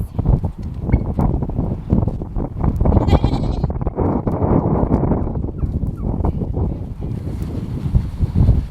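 Excited farm goats bleat repeatedly and close by outdoors near a hay basket, their overlapping cries running steadily over a constant rush of wind noise without pause.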